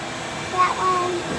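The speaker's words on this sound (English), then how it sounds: "Sorry about the noise when I'm vacuuming." A household vacuum cleaner drones on steadily with a broad, rushing hum while someone speaks briefly over it.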